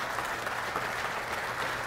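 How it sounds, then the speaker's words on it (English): A lecture audience at a distinguished lecture series event breaks into dense, sustained applause, many hands clapping at an even, loud level with no pause. "So round of applause for yourself for asking great questions and for Mr. Carlin."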